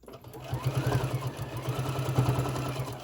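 A sewing machine stitches the fabric of a boxy pouch, a close, continuous mechanical whir with a rapid, even needle rhythm that runs throughout.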